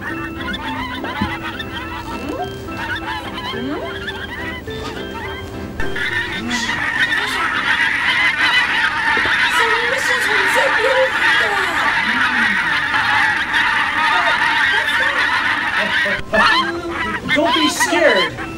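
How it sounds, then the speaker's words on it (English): Honking, quacking bird calls repeat over a busy stretch, with a voice talking and other animal-like sounds mixed in, in a children's learning program scene. "Oh, it's a duck."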